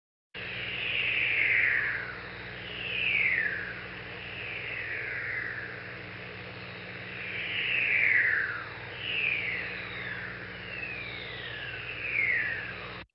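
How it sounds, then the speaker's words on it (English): Jupiter radio emission pops, recorded at a high rate and played back slowed, sound as descending whistling tones sweeping down repeatedly in bursts over a steady low hum, several overlapping chirps recurring every couple of seconds at moderate loudness. "if you record this at high rate and play it back, you can slow it down, and here's what those pops sound like"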